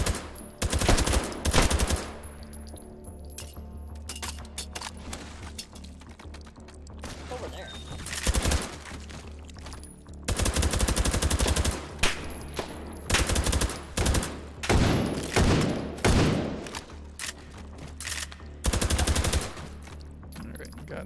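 Unsuppressed Victorian-era firearms fire in a modded Take & Hold video game, with loud repeated shots in irregular bursts and clusters and quiet gaps between them.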